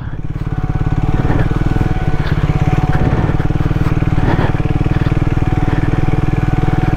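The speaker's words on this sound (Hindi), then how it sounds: "ऑफ रोडिंग में ये कि मोमेंटम बना के चलो, एक गियर में एक ही स्पीड पे अपना बाइक निकल जाती है" A Triumph Speed 400 motorcycle rides off-road over loose ground in a single gear at a steady speed, its single-cylinder engine thumping close and loud in an even, rapid pulse throughout.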